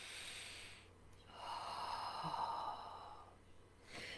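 A deep breathing exercise: one long, slow, airy breath drawn in and released, close to the ear in a quiet room, with soft hushed silence before and after.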